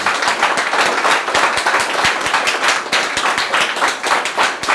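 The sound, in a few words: audience clapping for themselves at a worship gathering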